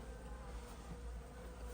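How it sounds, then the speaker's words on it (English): Honeybees buzz steadily inside a large hive during a live bee rescue in Ewa Beach, a faint, continuous drone holding at one level with no talk over it. "definitely got some bees in there."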